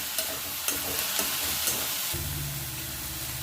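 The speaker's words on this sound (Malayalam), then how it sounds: "വെളിച്ചെണ്ണ ഒഴിച്ച ശേഷം ഫുൾ ഫ്ലെയിമിൽ വെച്ചിട്ട് തന്നെ വഴറ്റി കൊടുക്കും." Okra and egg stir-fry in coconut oil over full flame: a bright constant sizzle with regular scraping strokes of a spatula, then a low hum joins near the end, close and clear.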